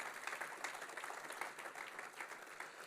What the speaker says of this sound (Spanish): aplaudan al Señor en alabanza